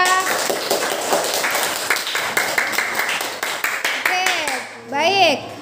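Classroom clapping for student groups after their presentations, brisk scattered claps mixed with voices, ending with a rising whistle-like squeal and a brief louder burst.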